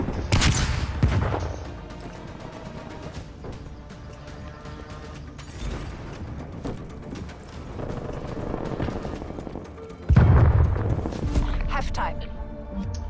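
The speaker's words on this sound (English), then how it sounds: "Sending flashbang." Flashbang and gunfire in a multiplayer video game shooter, with sharp loud bursts near the start and again around ten seconds, separated by a busier stretch of lighter game noise and scattered impacts.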